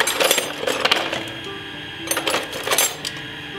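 A couple of metal wrenches are handled for maintenance on a UAZ 452 van, clinking and jingling in short clusters with brief pauses between them.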